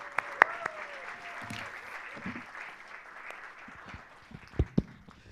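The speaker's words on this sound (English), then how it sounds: "Please do give him a round of applause." An audience at a global CEO summit applauds to welcome Dr. David Molapo, a soft spread of clapping from a large room, somewhat distant, with a few sharp knocks and thumps near the end.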